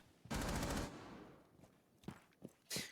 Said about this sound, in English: Gugsy and Lovely will both fall to the absolute demon of Ella's SMG there.